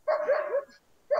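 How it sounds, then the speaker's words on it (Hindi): A dog barks in a quick run of several yips and barks, then falls silent briefly before one more bark starts, heard fairly close and on its own in a room during a classroom lecture. "अरे कुत्ता का आवाज कहाँ से आ रहा है"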